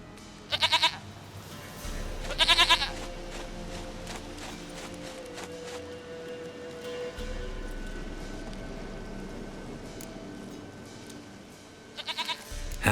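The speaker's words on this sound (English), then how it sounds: "Goat of mine, dearest, sweetest goat." Goat in The Witcher 3 bleats in several short bursts spread over the stretch, with a low steady rumble and faint ambient game sound running underneath, and no talk.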